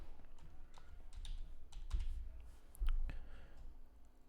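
Computer keyboard typing at a desk, a quick run of clicky keystrokes with a few louder presses, close and alone over low room hum.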